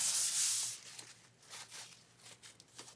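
A cloth buffs a melted crayon background, making soft, close rubbing swishes. A brisker burst of friction comes first, followed by gentler strokes that come and go unevenly.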